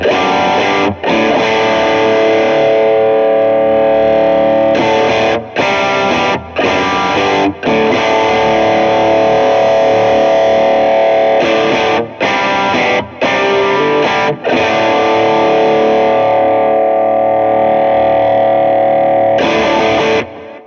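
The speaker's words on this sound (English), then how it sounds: "you're gonna hear more of the character of the pedal" Electric guitar driven through an overdrive pedal plays sustained, harmonically rich distorted chords and notes, loud and continuous with a few brief gaps between phrases, and no talking.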